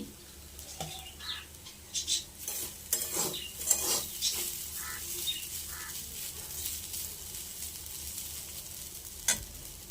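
A spoon stirs poha mixed with fried peanuts and raisins in a pan, giving soft scraping and faint sizzling over a low, steady background, with a few light utensil taps and no speech.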